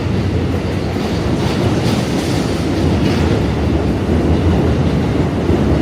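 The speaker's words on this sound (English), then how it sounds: "J train coming along." A J subway train rolling across the Williamsburg Bridge, a loud, steady roar of wheels on rails with faint rhythmic clatter and metallic squeal, close by and continuous throughout.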